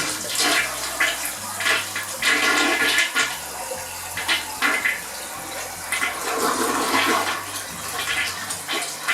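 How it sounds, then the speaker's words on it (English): A newly installed toilet flushes with a loud, full rush of swirling water that continues steadily for about nine seconds, with no voices over it. "Flush and check."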